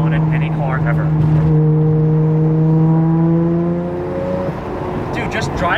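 A Midnight Purple V-Spec R33 Nissan Skyline GTR fitted with a Tomei titanium exhaust drives along, its steady engine drone holding a rising tone before easing off, loud and close with exhaust burble throughout.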